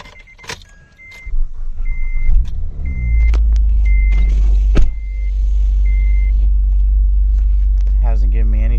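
An Acura 3G TL Type S with a replaced crankshaft sensor, its engine settling into a steady low rumble up close, with interior clicks and a few chimes before it, under nearby talk.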